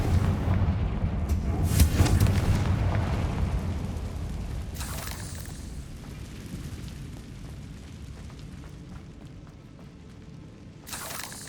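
A Confringo fire spell explodes in Hogwarts Legacy, a loud booming blast with a long rumbling tail that fades over several seconds, punctuated by a couple of sharp bursts, with no talk.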